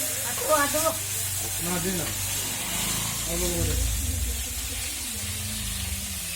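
Bhog offering food frying for an Ashtami puja, a steady sizzle and stirring running under voices talking nearby throughout.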